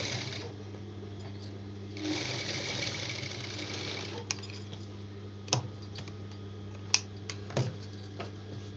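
A sewing machine stitches cloth pieces for a girl's body pavadai skirt. A quiet low motor hum carries a brief faster whirring burst of stitching, then scattered sharp clicks and ticks.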